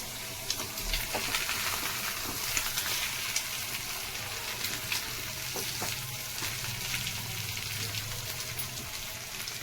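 Ivy gourd pieces fry in a hot pan for an ivy gourd egg fry and are turned over. A steady, close, crackling sizzle runs throughout, with occasional light scrapes and taps and no talking.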